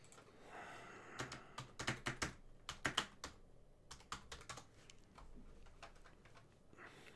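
Quick bursts of typing on a computer keyboard, close and crisp key clicks in uneven clusters with short pauses, no talk.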